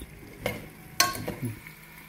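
Chopped yam pieces are stirred with a spoon through hot tempered oil and salt in a pan, a soft sizzle running underneath two or three distinct scraping stirs, close by.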